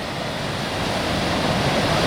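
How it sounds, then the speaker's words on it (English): Minnehaha Falls in Minneapolis pours down fast on a spring day, a steady, dense broadband roar of rushing water heard close and unbroken, with no voices. "Minnehaha Falls in all of its glory. It is rushing down at quite a rapid pace."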